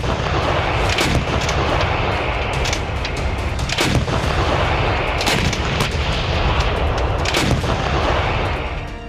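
Heavy gunfire and artillery along the India–Pakistan border, a dense, loud, continuous barrage with sharp cracks and booming blasts repeating throughout, no voices.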